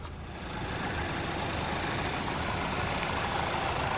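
The 4-cylinder engine of a 2021 Nissan Altima SL with 92,000 miles idles close by under the open hood, a smooth, even, steady running drone with no breaks.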